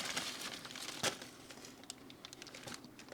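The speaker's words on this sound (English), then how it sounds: "someone put a plastic bag in here to prevent mice from getting into the cabin" Plastic bag stuffed into the cabin of a Citroen CX GTi, crumpled and crinkled up close in a continuous rustle with a sharper crackle partway through.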